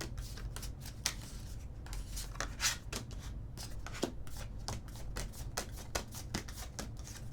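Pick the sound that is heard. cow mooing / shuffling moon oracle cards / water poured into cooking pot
shuffling moon oracle cards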